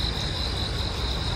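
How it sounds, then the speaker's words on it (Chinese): Katydids and crickets chirp without pause in a pine-wooded park amid central Tokyo, a dense, steady insect buzz held at one even level with no voices. "不是知了， 蛐蛐。"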